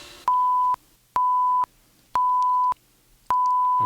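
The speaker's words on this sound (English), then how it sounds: "Classic rock memory commencing in 5 bleeps." Four evenly spaced electronic beeps, each a steady mid-pitched tone lasting about half a second, with short quiet gaps between them.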